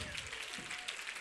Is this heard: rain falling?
no